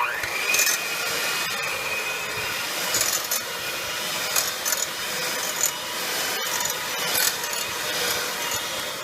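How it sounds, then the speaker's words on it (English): A hand mixer whirs steadily as it shreds cooked pulled pork in a bowl, a continuous grinding buzz with scraping and rubbing texture and a few brief thumps. "instead of using a fork, you can use your hand mixer"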